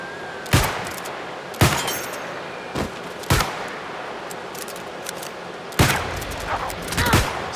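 Gunfire from the Shooter stance ability in the New World video game: about six sharp, loud shots in irregular succession, some in quick pairs, over a constant ambient hiss with no talking.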